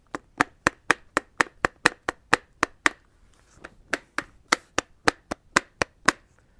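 A loose roller skate wheel spins on its bolt, which hangs partly off the screw, giving a steady series of sharp, close clacks at a regular rhythm with a brief stumble midway.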